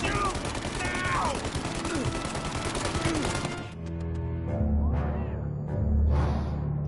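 Sustained gunfire shootout in the video game Mafia Definitive Edition, a dense fusillade of rapid shots and bursts for several seconds, then sparser single shots and booming reports against a low rumble.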